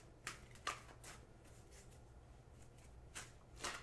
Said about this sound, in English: Okay, we'll shuffle. We've shuffled.